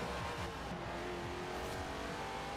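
Dodge Viper race car engine in a racing video game, a steady, loud, droning roar with rising and falling pitch sweeps as the engine revs through gears, continuous throughout with no talking.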